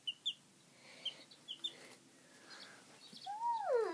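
Small young chicken, a sickly little hen, giving a few short high chirps early on, then a louder rising-and-falling peep near the end, faint against a quiet room.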